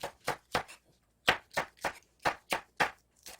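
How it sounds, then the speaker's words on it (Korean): A knife chops whole chili peppers on a cutting board in about ten crisp, evenly spaced strokes, with one brief pause partway through and no talking. "고추는 제가 그냥 통으로 이렇게 썰겠습니다"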